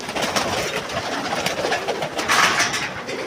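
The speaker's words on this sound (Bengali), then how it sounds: "এই দেখেন অনেক বড় বড়, অনেক বড় বড়, অনেক বড় বড় কবুতর" A flock of large pigeons kept in Saudi Arabia coos continuously and close by, a dense, overlapping rumble of calls with no voices.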